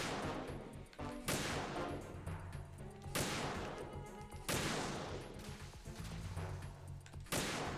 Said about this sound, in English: I can hit him from there, just use the sniper rifle